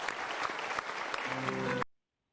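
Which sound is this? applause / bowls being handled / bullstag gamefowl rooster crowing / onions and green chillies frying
applause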